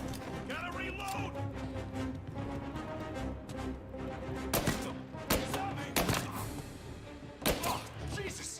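Video game gunfire crackles in a tense shootout, with several loud sharp shots around the middle and end over a busy, music-like game soundscape.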